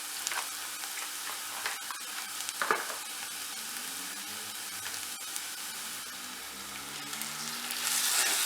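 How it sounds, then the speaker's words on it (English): Turkey mince fries with softened onions in a pan, giving a continuous moderate sizzle, with intermittent stirring scrapes and clicks throughout. "when we can start to see the onions go slightly translucent and slightly softer, we can then add in our turkey mince."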